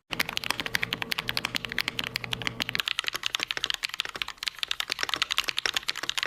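Rapid typing on a $240 mechanical keyboard gives a dense, steady run of sharp, close clicks that carries on for several seconds, with no voices present.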